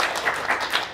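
An audience applauds at a coffee talk event, a steady wash of many hands clapping at moderate distance, continuous through the moment with slight swells and no voices on top.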